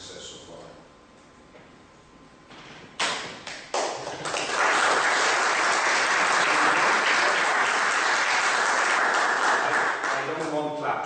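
An audience applauds after a conference presentation, beginning with a few scattered claps and then swelling into loud, sustained clapping that continues to the end.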